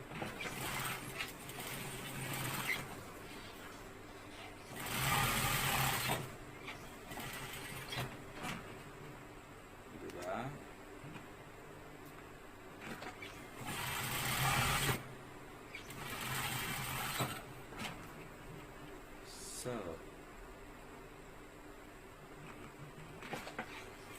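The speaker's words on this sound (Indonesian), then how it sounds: "Setelah itu kita jahit double dulu." A sewing machine stitches a double seam on a pocket in several bursts of rapid mechanical whirring, loudest around the middle, separated by quieter handling pauses, with no talk.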